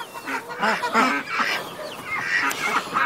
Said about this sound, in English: We've now got some geese.